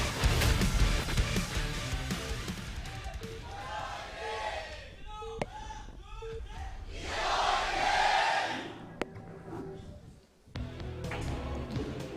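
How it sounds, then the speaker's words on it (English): A crowd at an AfreecaTV StarLeague StarCraft match cheers and roars, swelling loud and dense in waves, mixed with game sounds and brief shouting, then dropping before a final burst of noise. "I'm sure you guys heard the difference in the cheers there"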